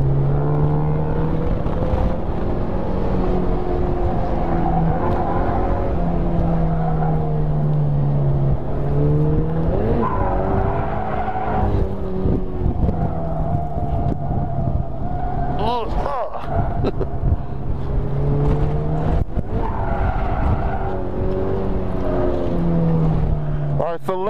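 Car engine revving and easing on and off the throttle while drifting, the whine rising and falling in waves over about twenty seconds, with a voice talking over it at times.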